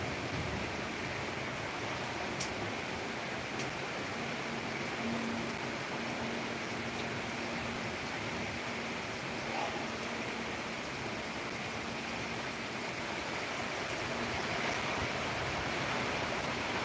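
Heavy rain pouring down in Palakkad, a dense, unbroken wash of hissing noise at steady loudness, with a few faint distant ticks and no voices.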